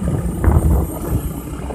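A Bajaj Avenger motorcycle ridden at night on a long tour, past 50,000 km, with a deep low engine drone under heavy buffeting wind noise against the microphone, loud and continuous, with no speech.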